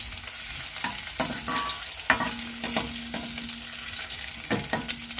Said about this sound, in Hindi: इसे थोड़ी थोड़ी देर पर चलाते हुए अच्छी तरह से हम भून लेते हैं।